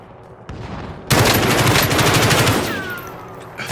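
Sustained automatic gunfire from a fight in Call of Duty erupts loudly after a quieter opening, a dense rapid stream of shots running for over two seconds before tapering off.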